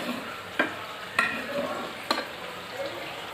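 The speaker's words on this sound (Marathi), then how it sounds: "हे असे तेलात असे परतून घ्यायचं असं तेलामध्ये आपण तेलात परतल्यावर" Food pieces fry in hot oil in a pan, with a continuous close sizzle broken by a few sharp scraping stirs at uneven intervals and no voices.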